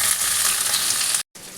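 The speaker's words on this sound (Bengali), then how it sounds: "দিয়ে আমি আগে পটলটা ভালো করে ভেজে নিই।" Pointed gourd pieces fry in a pan of hot oil for a potato and pointed gourd curry, giving a loud, steady close-up sizzle with a brief break near the end.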